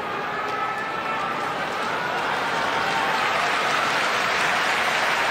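A sumo crowd at the May 2018 tournament roars and applauds for the whole stretch, a dense, loud, sustained wash of clapping and cheering that swells slightly toward the end.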